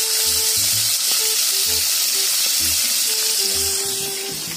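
Cooking oil sizzles hard in a pan, a loud, steady frying hiss close by, with a low intermittent hum and tonal clinks underneath, and the hiss eases slightly toward the end.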